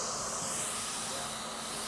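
Sea salt spray misted onto a man's hair in a barbershop, a steady close hiss that lasts the whole moment without a break.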